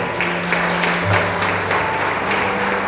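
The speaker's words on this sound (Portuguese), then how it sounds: "Levanta suas mãos e aplauda o nome do Senhor" A church congregation claps in praise during a Portuguese-language worship service, with a rhythmic, fairly loud beat of many hands over a sustained low organ or keyboard tone.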